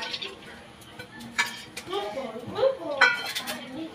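Lentils are tipped into a pressure cooker, making close metallic clinks and scraping rattles from the pot and utensil, with soft handling noises between them.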